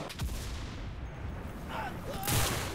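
Soldiers are being shot in the Enlisted war game, with scattered gunshots and booming artillery-like blasts over a busy battlefield din, a couple of sharper bursts standing out near the start and end.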